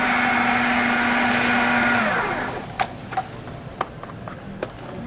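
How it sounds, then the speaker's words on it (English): A blender whirs loudly and steadily as it chops walnuts for about two seconds, then winds down and stops, leaving a few faint clicks and taps. "What you're looking to achieve here is to get this all blended so you don't have big chunks"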